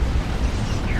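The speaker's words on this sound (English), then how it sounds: "Double rocket run." Double rocket run strike in the real-time strategy game Dawn of War 2, Imperial Guard against Orks: a dense, continuous rumble of overlapping explosions that stays loud and booming throughout, with no gaps.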